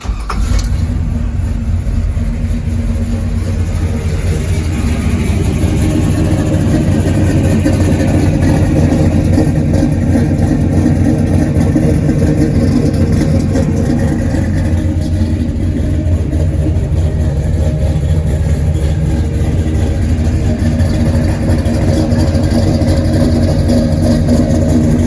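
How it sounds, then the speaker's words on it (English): The small-block V8 of a 1969 Chevrolet K20 truck idles loud and close, a deep, steady rumble that holds for the whole stretch with a slight lope, in a workshop, with no talking. "I'll go ahead and start it up"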